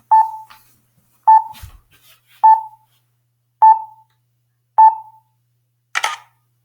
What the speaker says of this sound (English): because I'm taking the picture by myself, I'm going to have to use the timer